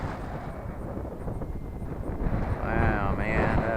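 Wind gusts across an outdoor microphone as a steady low rumble that swells louder toward the end, with a faint higher whine rising near the close.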